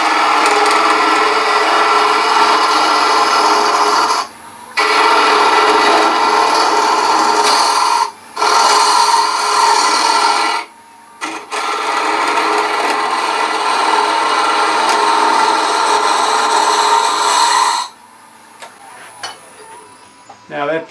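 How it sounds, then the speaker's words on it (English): Spindle gouge with a fingernail grind cutting into the bottom of a spinning miniature wooden birdhouse on a lathe: a steady, loud scraping hiss in several long passes, broken by short pauses, with no talking. "I'm using a 3/8 inch spindle gouge with the fingernail grind at probably about a 40 degree bevel"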